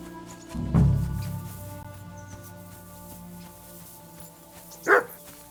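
A dog barks in the medieval video game Kingdom Come: Deliverance II. A low, close woof comes first, then quiet ambience, then a sharper distant yip near the end.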